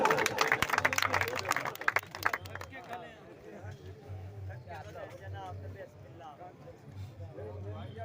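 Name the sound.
audience applause at a Punjabi mushaira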